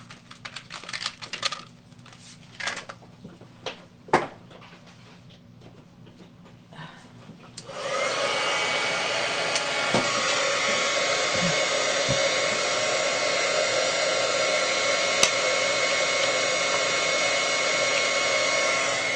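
Some scattered clicks and handling noises, then a heat gun switches on and blows a steady, loud whooshing roar that continues to the end.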